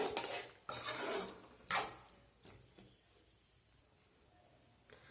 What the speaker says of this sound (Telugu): మరోసారి కలుపుకొని